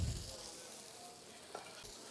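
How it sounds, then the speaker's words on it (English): Prosciutto-stuffed flank steak sears in a hot pan with a steady, soft sizzle throughout, slightly louder at the very start and with a faint tick partway through. "I'm going to let this kind of sear a little bit."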